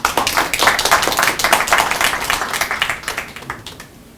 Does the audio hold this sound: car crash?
no